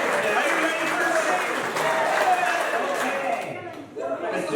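Audience at a folk festival concert applauds steadily throughout, a dense crowd clapping with some chatter underneath, thinning slightly near the end.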